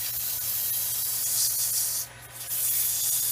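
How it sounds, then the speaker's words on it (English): Sandpaper hisses steadily against spinning wood on a lathe turned to low speed, under a low motor hum, with a brief pause in the scratching before it resumes. "I turn the lathe speed down whenever you're sanding"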